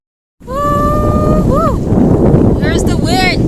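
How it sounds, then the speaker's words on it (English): Wind gusts and rushes loudly across a sailboat at sea, at about 15 knots from the north. A voice exclaims and chatters over the steady, broad roar. "Here's the wind!"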